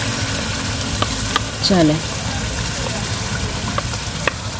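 Spinach and mutton for degi palak gosht fry in a pot over a tandoor-style fire, giving a steady close sizzle with occasional stirring clinks and a brief spoken word.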